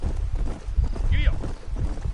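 Horse hooves clip-clopping in the Red Dead video game, a steady gallop rhythm mixed with game music and a voice speaking over it.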